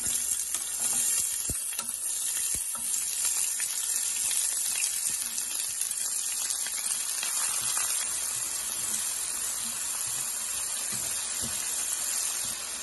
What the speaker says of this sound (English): I preheated this oil, so we're gonna cook the onions and the garlic